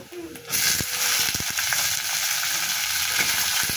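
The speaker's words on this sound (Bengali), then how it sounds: "পেঁয়াজ, জিরা, মরিচ এমন ভাজা ভাজা হয়ে আসলে এর মধ্যে কুচানো আলু দিয়ে দিব।" Chopped potatoes drop into hot oil with frying onion, cumin and chilli, setting off a loud, steady sizzle that continues throughout, with a few scraping clinks.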